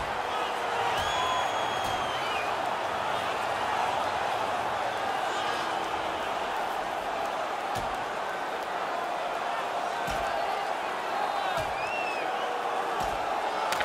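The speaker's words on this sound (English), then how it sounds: "Crowd on their feet as they drop the gloves." Hockey crowd in the NHL 2020 video game roaring as players drop the gloves for a fight, a sustained broad crowd noise with scattered whoops and thuds, heard under commentators talking.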